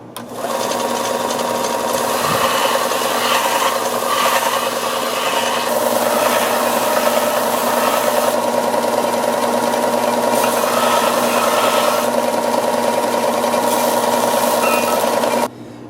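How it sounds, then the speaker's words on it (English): A belt sander squares off a cut wooden piece for a bowl gouge handle. Its motor whines loudly and steadily for about fifteen seconds, with rubbing and grinding changes as the wood is pressed against the belt, and then it stops. "you can always use your belt sander to clean that up a bit and make it more square so it'll fit nicer on"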